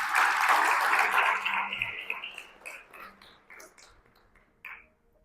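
A church congregation applauds during a Sunday sermon, a loud burst of clapping that fades over a few seconds into scattered claps.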